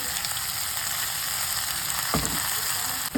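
Stuffed brinjals fry with cumin and curry leaves in a Marathi-style vegetable dish, giving a steady close sizzle. A single utensil knock sounds near the end.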